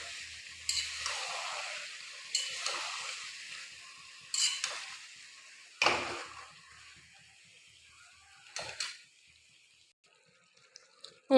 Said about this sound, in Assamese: এতিয়া মই এইখিনি ভালদৰে লাৰি কমচে কম 15 মিনিটমান মই মজাই ল'ম ভালদৰে।